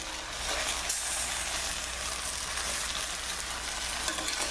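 Lamb sears over a hot flame in a crock pot, giving a loud, steady, broad sizzle with a crackling hiss that holds evenly throughout, close and without talk.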